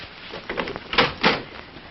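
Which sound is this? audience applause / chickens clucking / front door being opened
front door being opened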